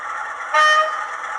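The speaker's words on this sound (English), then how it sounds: "Function 3 is a high horn." A short, high-pitched horn toot from a Bachmann OO-gauge Class 45 model locomotive with ZIMO sound sounds once over a steady background hum, lasting about a third of a second.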